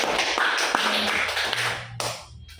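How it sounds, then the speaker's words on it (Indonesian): Students clapping in a classroom during a microteaching lesson, a brisk burst of hand claps that fades out, followed by a couple of isolated taps. "Oke, terima kasih tepuk tangan."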